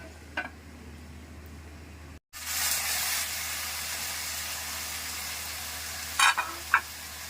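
Vegetables for a kootu poriyal frying in oil in a pan, giving a steady soft sizzle that swells after a lid comes off, with a few clinks of a utensil.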